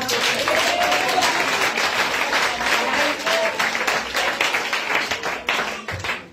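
A congregation at a prayer service against witchcraft bursts into sustained applause, dense and loud for several seconds and then breaking into scattered claps as it fades, with voices mixed in underneath.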